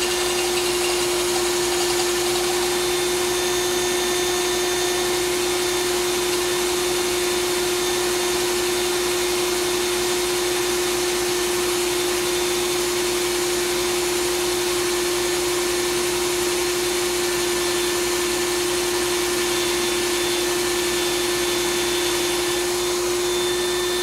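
A power drill runs continuously on a 1990 Jeep Wrangler 4x4 actuator valve, a steady loud whine with a constant pitch and no pauses throughout.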